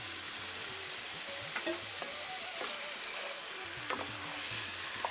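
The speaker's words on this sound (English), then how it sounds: "When you can put it directly onto the oil so that it gets fried." Chicken with masala fries and is stirred in hot oil, a steady close sizzle with scraping stir strokes, no talk.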